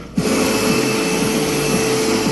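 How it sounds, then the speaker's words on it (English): A household vacuum cleaner starts up and runs with a loud, steady drone, alone and close, its motor hum holding constant after the switch-on. "So next, Mr. Trump, I'm going to need you to vacuum."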